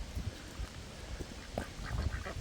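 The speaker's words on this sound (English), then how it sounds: "What are you silly ducks doing?" Ducks by a pond give short scattered quacks and rustling, close and fairly loud over a busy outdoor background with no speech.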